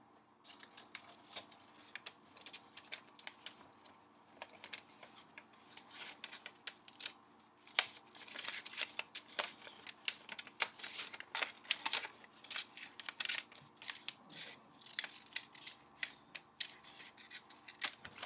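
Scissors snipping out a paper craft cutout, a long run of crisp, irregular close-up cuts with short pauses between bursts, quiet room and no speech.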